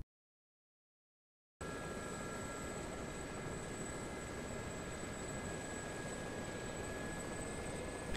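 The K-50 helicopter in DCS flies with a continuous, even rotor and engine drone that starts abruptly after a short silence and holds steady at moderate loudness.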